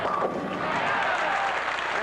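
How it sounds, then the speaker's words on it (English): Bowling fans applauding a 22-year-old pro's strike at the 1983 PBA Miller High Life Open, sustained crowd clapping and cheering filling the arena, with a voice talking over it. "the fans here behind this likable 22-year-old applaud his second strike in 5 frames"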